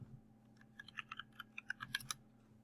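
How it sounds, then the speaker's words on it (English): Keys on a computer keyboard pressed in a quick irregular run of about a dozen crisp clicks, close and fairly quiet over a low background hum. "now I'm going to press X on my keyboard"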